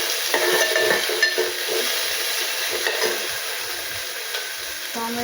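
Tomato added to a frying pan and stirred, a steady sizzling hiss with soft scraping strokes of a spoon, fairly close and consistent throughout.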